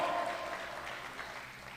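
A church congregation at a conference applauds, a dense patter of clapping that starts full and eases slightly over a couple of seconds, with no talk over it.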